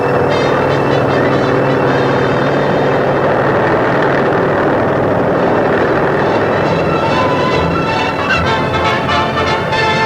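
An American helicopter in flight gives off a steady, loud, unbroken engine and rotor drone that fills the whole stretch, with no voices over it.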